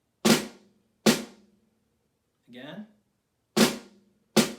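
Left-hand flam tap drum rudiment: slow, evenly spaced crisp strokes, two at the start and two at the end, close and loud, with a short spoken word in the gap between them.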